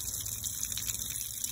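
Water rushing steadily through flushing muffs fitted over the intake of an outboard motor, a constant close hiss and gush with no talking.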